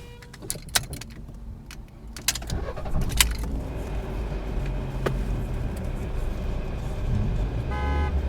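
Car horns toot at a stalled rental car in Argentina after its engine dies in first gear, with short honks and clicks over a steady idling engine and traffic rumble.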